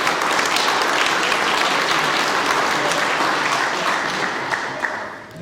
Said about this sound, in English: If we could have a round of applause for all of them